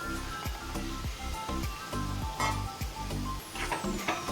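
Marinated prawns coated in turmeric, chilli powder and salt hit a hot pan with a loud steady sizzle, punctuated by repeated rhythmic scraping stirs, close and continuous.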